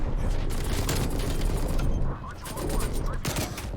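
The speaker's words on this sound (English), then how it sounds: "How can I not put more bullets in the nail gun or more nails?" Rapid bursts of nail gun fire in Call of Duty: Black Ops Cold War, close and repetitive, mixed with other in-game gunfire and explosions, with a player talking over the action.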